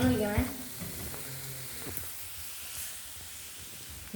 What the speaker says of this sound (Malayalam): നമുക്ക് ബ്രോൺസ് ചേർത്ത് കൊടുക്കാം. നന്നായിട്ട് ഇളക്കി കൊടുക്കണം.